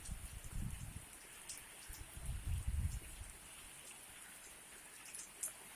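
Heavy rain pours in Tulang Bawang, Lampung, during a windstorm, a steady faint hiss with low rumbling gusts rising and falling, and no talk.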